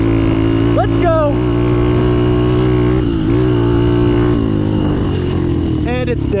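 A Benelli TNT 135 motorcycle ridden off-road on an adventure trail, its small engine droning loudly and steadily close up, with brief pitch swoops as the throttle is worked.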